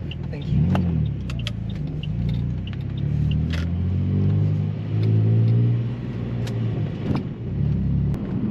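A Saab 9-3 2.8T V6 (YS3F) is driven from inside the cabin, its engine a low steady drone that swells and eases with throttle, plus occasional small clicks and rattles, and no one speaking.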